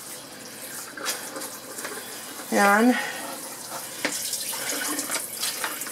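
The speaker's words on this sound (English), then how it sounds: "The good thing about living here is the water is actually pretty cold coming out." Cold water runs from an outdoor tap in a garden setting after collard greens are harvested, a steady hiss with a brief squeaky tone in the middle and someone speaking briefly.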